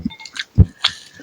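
Close, crisp crunching from a mouthful of fried chicken with kerupuk crackers, sambal and mushroom, a few sharp bites and chews in uneven rhythm with one heavier crunch in the middle, with no talking.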